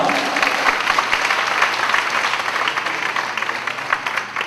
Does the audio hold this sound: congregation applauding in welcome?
yes